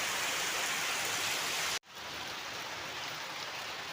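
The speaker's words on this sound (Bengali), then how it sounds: "এখন আমাদের এখানে ঝাঁপিয়ে বৃষ্টি নেমেছে, মানে একদম অঝোরে বৃষ্টি" Heavy monsoon rain pours down in a continuous dense hiss. The sound is steady and fairly loud and drops out for an instant about halfway through.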